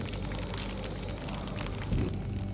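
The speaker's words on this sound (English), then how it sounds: "On cue, a shower of rain tumbles over them." A rain shower pouring down in the seafaring video game Burly Men at Sea, a steady dense wash of drops that stays loud and continuous throughout, with a heavier low thump near the end.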